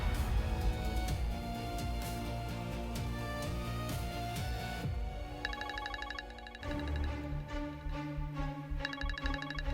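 A telephone ringtone repeats in patterned electronic bursts over a dense background of dramatic music in an Indonesian TV drama scene, moderately loud and steady.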